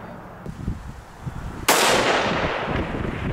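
A single loud, sharp rifle shot cracks at a shooting range during testing of an Athlon Cronos BTR Gen2 scope, preceded by faint background sound and followed by a lingering echoing tail.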